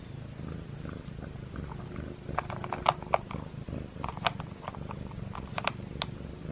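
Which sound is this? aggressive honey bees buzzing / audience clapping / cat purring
cat purring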